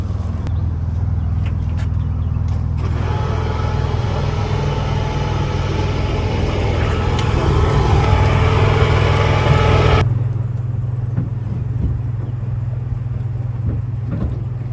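A twin-turbo big-block Camaro engine rumbles at a steady idle close by, a loud, continuous low drone with a busier, rougher stretch in the middle before settling back.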